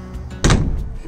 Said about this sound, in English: I want everyone to appreciate how great it is to have a door that can actually slam.